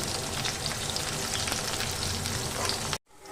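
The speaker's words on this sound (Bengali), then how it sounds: "তেল গরম তেলের মধ্যে পেঁয়াজ শুকনো লঙ্কা রসুন সমস্ত কিছুকে ভালো করে লাল লাল করে ভেজে নেব" Onion, dried chilli and garlic frying in hot oil, a dense, loud, continuous crackling sizzle that cuts off abruptly near the end, leaving a faint quieter hiss.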